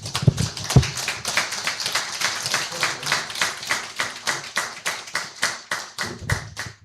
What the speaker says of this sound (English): A big round of applause for Professor.